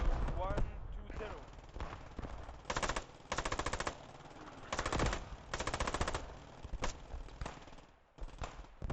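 Machine gun fire in the World War II shooter Squad 44 on Utah Beach, several long rapid bursts with short gaps, loud and close, with a player talking between volleys.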